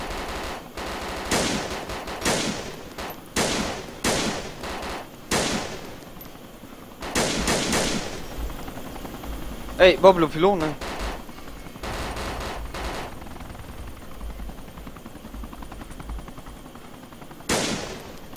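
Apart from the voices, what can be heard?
gunfire in the video game DayZ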